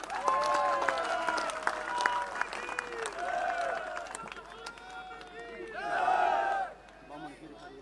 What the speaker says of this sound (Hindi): ताली बजाओ एक, बहुत बढ़िया।